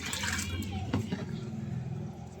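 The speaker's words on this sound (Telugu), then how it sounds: "కొన్ని వాటర్ పోద్దాం" Water is poured onto garden plants such as fenugreek, a soft continuous splashing and trickling heard fairly quietly under nearby talk.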